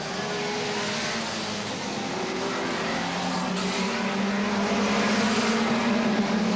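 Hot rod race cars circle a track at the 1975 Hot Rod World Final, a continuous loud roar of engines rising gradually in pitch, with no talk over it.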